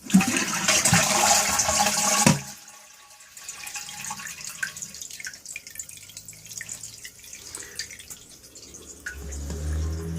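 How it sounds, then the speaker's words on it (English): A toilet flushes with a loud rush of water that cuts off after about two seconds, followed by a quieter trickle and refilling of the cistern, close by. "I'll just do a quick flush"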